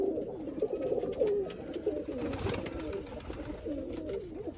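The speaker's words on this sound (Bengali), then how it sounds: "এগুলো আমার বাসার কবুতর" Nearby Rajshahi Giribaj flying pigeons at a household loft give continuous, overlapping throaty coos, a soft, rhythmic rumble with no pauses.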